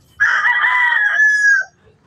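A rooster at a poultry farm in Cavite crows once, loud and close, in a single drawn-out call lasting about a second and a half, followed by quiet.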